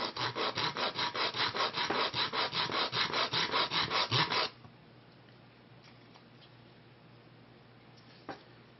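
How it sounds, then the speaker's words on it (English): Rapid, rhythmic back-and-forth rasping of sandpaper smoothing the end of a wooden Native American flute, close and steady for several seconds, then it stops, leaving quiet background hiss. "I'm going to sand the end smooth."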